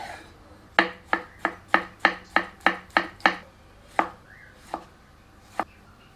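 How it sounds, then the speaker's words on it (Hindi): A knife finely chopping onion and tomatoes on a board makes close, sharp chops: a quick, even run of about nine strokes, then a few slower, spaced cuts, with no talking. "एक बड़े आकार की प्याज को बारीक काट लेते हैं। दो मध्यम आकार के टमाटरों को भी बारीक काट लेते हैं।"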